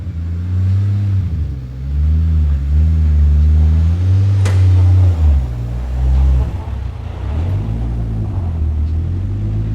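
A Corvette C4 engine idles and revs repeatedly, the deep rumble rising and falling in several steady swells, close and loud with no voices over it.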